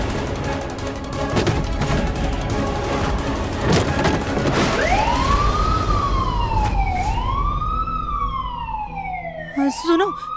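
A fire engine siren wails in rising and falling sweeps over a dense, noisy background with low rumbles and booms, growing stronger through the second half as the truck draws near.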